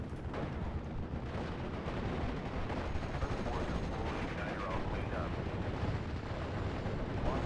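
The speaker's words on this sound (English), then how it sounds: "Artillery at your orders." Artillery barrage in the Normandy 1944 wartime strategy game Steel Division, a dense, continuous roll of overlapping booming blasts and gunfire that holds steady throughout without a break.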